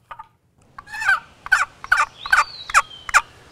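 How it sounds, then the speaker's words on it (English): A wooden box call used for turkey hunting rasps out a series of about six hen-turkey yelps in an even, rhythmic run, loud and close with no talking. "a box call,"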